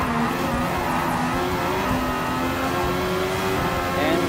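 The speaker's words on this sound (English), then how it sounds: "Let's just pass one yellow F1 car and then going in." A Mercedes-AMG F1 race car in Gran Turismo Sport screams along at high revs, its engine note climbing through the gears while passing another F1 car, loud and continuous throughout, with faint tire noise underneath.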